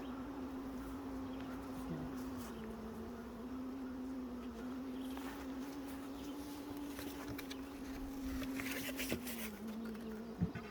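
Bees hum steadily inside a beehive box in a low, even drone that lasts the whole stretch. A few soft knocks and handling rustles sit on top, with a louder clatter near the end. No talk.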